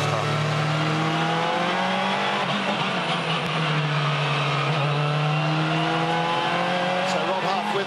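Touring race cars of the FIA World Touring Car Championship field circle toward a standing start, their engines droning steadily with rising and falling harmonics throughout, loud and continuous, with commentary running over them.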